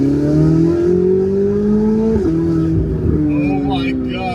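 A Chevrolet Corvette C8 Z06 engine revs and pulls hard at part throttle on a track, its rising harmonic drone climbing in pitch, loud and close, with a brief shift partway through.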